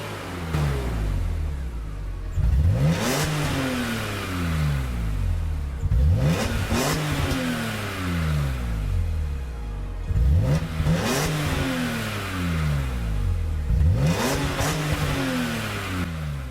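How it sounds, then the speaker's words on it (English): BMW E46 straight-six in a racing video game revs repeatedly, climbing sharply then dropping back in a steady cycle of roughly four-second sweeps, loud and close with no talking. "a lot of people say this is the worst sounding straight 6 engine that BMW ever built"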